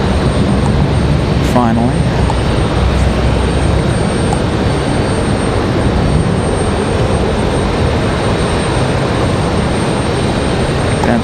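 Icelandair airliner rolling down the hill at Raleigh-Durham airport, a steady broadband engine roar holding loud and close for the whole stretch, with a brief voice over it near the start.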